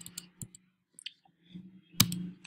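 Computer mouse buttons clicking while images are selected in a WordPress Gutenberg editor, a series of sharp close clicks spaced irregularly, some in quick pairs, over a faint hum with no speech.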